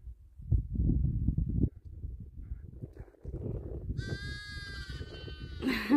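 Sheep on open moorland by a reservoir give a couple of clear, close bleats toward the end, following several seconds of low rumbling wind and handling noise.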